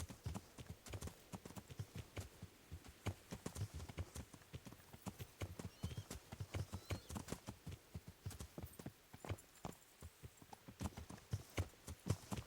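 A horse in a video game trots with a rapid, steady clip-clop of hooves, clear and moderately loud, running continuously with no talking.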